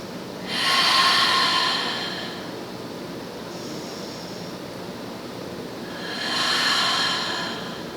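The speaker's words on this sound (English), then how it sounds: "Let's take 2 more breaths wherever you are" Two slow, deep breaths during a beginner yoga practice, each a soft, full rush of air lasting over a second, close and clear with a quiet pause between them.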